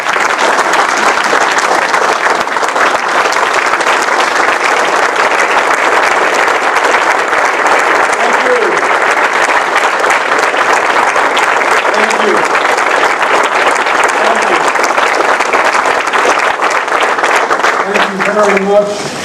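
A large audience applauding steadily to welcome Governor Andrew Cuomo, dense loud clapping sustained throughout with faint cheering voices mixed in near the end.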